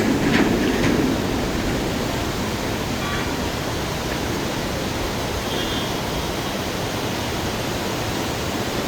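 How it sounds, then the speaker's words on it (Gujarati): Drung waterfall in Tangmarg, Kashmir gives off a steady, even roar of falling water, a constant wash of noise heard alone from a moderate distance. "અને આ વોટરફોલ છે."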